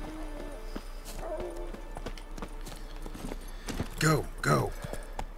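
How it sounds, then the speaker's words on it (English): Horse hooves clip-clop in a casual outdoor setting, faint and steady beneath a person speaking, with a louder burst of movement near the end. "Horsey."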